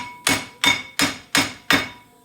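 A hammer strikes the front brake rotor of a 2005 Volkswagen Jetta TDI five times in an even rhythm, each hit a sharp, loud, close metallic clang with a brief ringing tail, and no talk between the blows.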